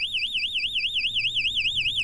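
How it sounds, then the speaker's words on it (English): A tamper alarm on The Barnacle, a GPS-tracked wheel-immobilizer device, sounds as a loud, close electronic siren whose pitch wobbles steadily up and down, repeating quickly and without pause. "an alarm goes off"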